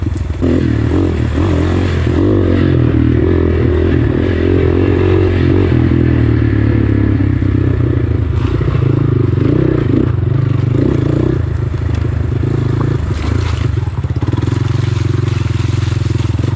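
A GPX FSE 250 E motorcycle rides along dirt trails, its engine droning loudly and continuously with rattling, clattering and rough scraping from the terrain, heard up close from on the bike.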